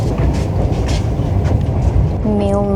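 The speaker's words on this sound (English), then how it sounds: "I'm glad we took a train" Interior of a moving passenger train in Kazakhstan: a steady low rumble and rolling rail noise fill the whole stretch, with a voice speaking over it near the end.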